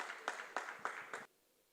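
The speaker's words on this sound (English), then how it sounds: "Please, can we clap for her?" A small audience claps to welcome a Lagos State Judiciary judge at a formal session, a few distinct, fairly faint hand claps in a loose rhythm that stop abruptly.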